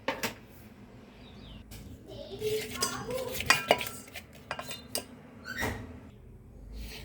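Maida flour, baking powder and salt being stirred together in a bowl for eggless cupcakes, a spoon scraping and clinking against the bowl in irregular bursts, close and moderately loud, with no talking.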